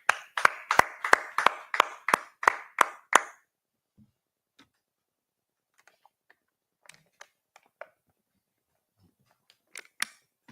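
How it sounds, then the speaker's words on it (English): An audience at a gathering claps in a quick, steady, unison rhythm of about ten loud claps. A few scattered, faint claps and ticks follow in near quiet. "Clap it up, everybody."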